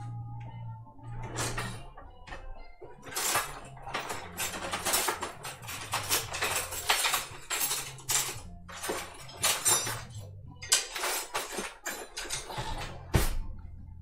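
Rummaging through a kitchen drawer of cutlery for a spoon: steady metallic clinks, clatters and scraping of silverware, with a drawer sliding, close by and continuous for over ten seconds, no voices.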